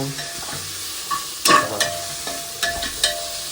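Mint leaves and green chillies frying in a hot pan in oil, with steady soft sizzling broken by a few sharp scraping stirs of a spatula, close and continuous, no voices.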